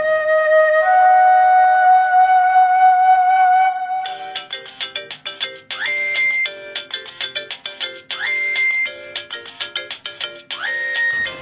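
A mobile phone ringtone plays loudly and close, first as a sustained melodic tone, then as a repeating jingle of bright, rhythmic bursts, with no one talking over it.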